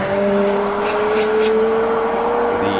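McLaren and Audi R8 race cars at the Simola Hillclimb, a loud sustained engine drone with steady whining harmonics rising slightly as the car accelerates, close and dominant.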